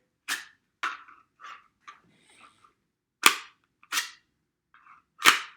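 A series of sharp, distant-sounding gunshots in an irregular rhythm, some faint and some louder cracks, separated by silence.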